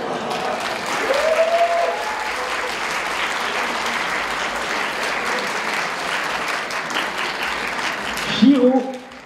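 An audience claps loudly and continuously at a lively French event, a dense sustained round of applause that swells briefly near the end as voices break in.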